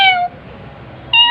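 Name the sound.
cat meowing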